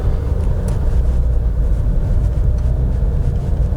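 Steady low rumble of a 2011 Volkswagen Polo I-Motion with an automated gearbox driving smoothly, heard from inside the cabin as a constant engine and road drone.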